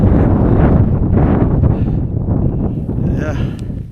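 Strong gusting wind buffets the microphone on an exposed mountain, a loud roaring rumble that eases slightly toward the end, with faint voices beneath it.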